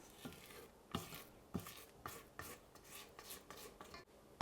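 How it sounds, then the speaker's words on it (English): A spatula scrapes around a mixing bowl holding a whipped egg-white batter with gelatin, making repeated short rasping strokes about every half second, close and fairly quiet, with no talking. "I just want to scrape down the bowl"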